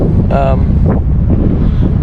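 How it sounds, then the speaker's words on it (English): Heavy wind on a sailboat buffeting the microphone with a loud, low rumble throughout, and a brief voice cutting in near the start. "Yeah, I just got windy, of course."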